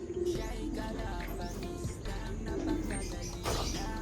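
Racing pigeons coo softly in a loft, low throaty calls repeating a few times over steady background noise, with some faint chirps mixed in.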